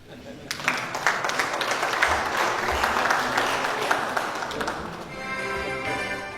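An audience at a 77th birthday tribute to Rainer Christian Kozel applauds steadily, a moderately loud, even run of clapping that begins suddenly and thins into a softer tail.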